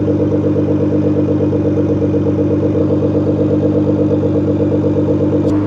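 A Nissan GT-R with a Boost Logic Quadzilla midpipe exhaust idles loudly up close, a steady deep, lumpy burble pulsing evenly throughout with no talk.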